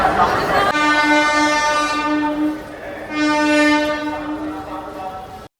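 A passenger train on the Howrah to NJP route sounds its horn in two long, loud, tonal blasts with a short gap between them, heard close by.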